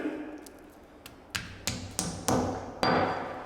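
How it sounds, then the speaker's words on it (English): Red plastic wall plugs are tapped into drilled holes in a wall with a hammer while a robe hook is being installed, giving about six short, sharp knocks that grow louder, ending in a ringing final hit. "Now we'll get our two red plugs. Tap those in."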